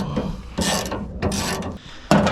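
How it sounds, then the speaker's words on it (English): A ratchet loosens a 10 mm bolt on the tailgate handle of a 2004–2008 Ford F150, giving three close bursts of rapid clicking separated by short pauses, with no talking. "So then just unscrew it on."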